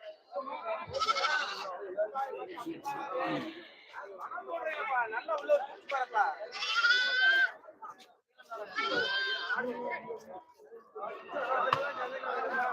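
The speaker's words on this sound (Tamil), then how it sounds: "வெள்ளாடு ஃபுல்லாக அந்த வாசலில் இருக்கும்" Goats bleat over and over at the Friday goat market in Ettayapuram, Thoothukudi district, with the loud, overlapping cries filling the air among sheep and constant crowd chatter nearby.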